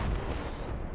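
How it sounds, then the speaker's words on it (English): A massive explosion booms outside a ship, one deep continuous rumbling blast lasting about a second, loud and close. "As a massive explosion is heard outside."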